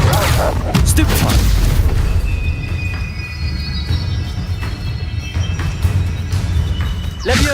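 Stupefy spell casting in Hogwarts Legacy combat: a loud, near run of heavy booming blasts and sharp impacts that continues throughout without a break.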